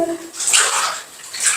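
Water pours into a hot tub, a close, loud splashing gush that surges and fades in uneven waves, with no voices over it.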